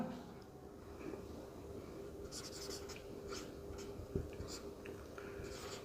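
Pen scratching across paper while a Class 10 maths solution is written out, faint scribbling strokes in short bursts over a steady low hum, with a single soft tap near the end.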